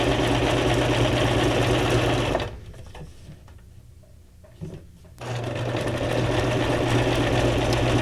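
A home sewing machine runs a zigzag stitch along the edge of a junk journal ephemera piece, a loud steady whirring with a clear pause in the middle before the motor starts up again.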